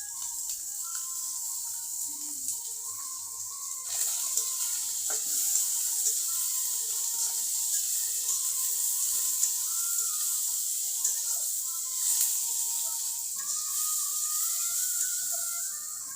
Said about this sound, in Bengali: পেঁয়াজগুলো মাছের সাথে ভেজে নেব।